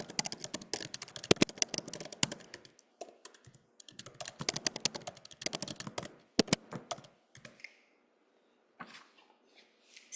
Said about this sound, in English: And I will type that in the chat box too.